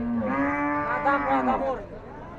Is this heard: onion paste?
no